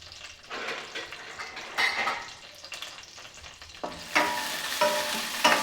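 Chana dal halwa with sugar is stirred in a pan, producing bursts of scraping and moist sizzling that swell and fade, louder near the end.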